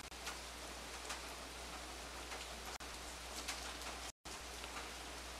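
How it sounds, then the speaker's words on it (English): Steady, dense patter of rain drumming on a roof, continuous and even, over a low background hum with a brief dropout near the end. "Back to the rain on the roof."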